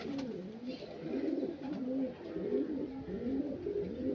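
An aging male Kalaka pigeon cooing in courtship display, a low, rolling, repeated coo that runs continuously and sounds close but soft.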